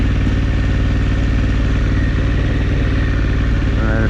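An adventure motorcycle drones steadily and close on an off-road practice ground while the rider feathers the clutch and works the front brake standing up. The engine's continuous loud rumble fills the whole stretch.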